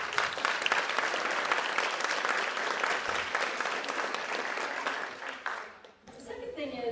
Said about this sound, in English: So if you would give them a round of applause.